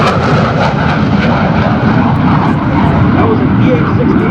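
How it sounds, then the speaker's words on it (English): EA-6B Prowler jet making a high-speed pass at an airshow at MCAS Cherry Point, a loud, continuous roar of jet noise close by, with an announcer's voice over it. "That was an EA-6B Prowler coming in for a high-speed pass following the release of its high-speed anti-radiation missile"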